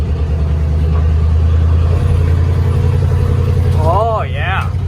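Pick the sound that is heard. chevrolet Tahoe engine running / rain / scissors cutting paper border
chevrolet Tahoe engine running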